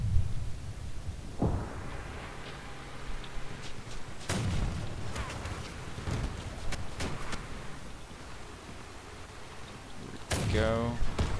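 Weapons firing in the vehicle combat game Crossout, with several heavy booming shots spread over continuous engine rumble and a whining sweep near the end.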